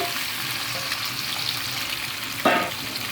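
Golden fried onions with marinated spices for duck curry being stirred in a pan, a steady sizzle and hiss with soft scraping, and one brief louder burst near the end, close by.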